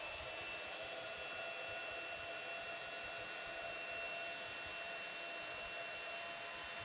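Heat tool blowing a steady, even roar as it melts silver metallic embossing powder on a Christmas card, heard close and alone throughout before cutting off abruptly at the end.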